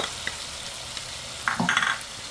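Garlic and onion frying with chicken for buttered chicken adobo, a steady sizzle with a few brief scraping stirs of the pan near the end, no voices.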